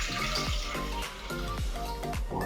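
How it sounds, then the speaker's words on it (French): Milk pours from a height into a large saucepan, a steady splashing, gurgling stream heard up close with repeated pulses as the flow shifts. "on met le lait à l'intérieur de la casserole"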